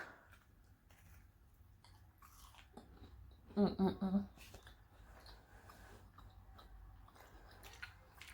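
Someone chews a crunchy edge piece of a Reese's cinnamon brownie, with a short burst of close, moist bites in the middle of an otherwise quiet stretch.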